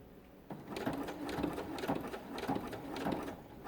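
Sewing machine stitching a zigzag seam on a quilted journal cover, a steady close-up mechanical whir with rhythmic needle pulses that starts after a brief quiet moment and runs on alone.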